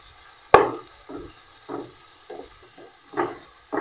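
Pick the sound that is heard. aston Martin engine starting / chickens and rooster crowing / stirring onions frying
stirring onions frying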